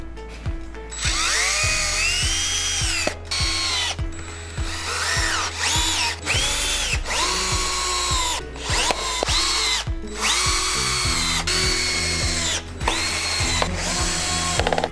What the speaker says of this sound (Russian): фиксируем их по разметке с помощью саморезов из комплекта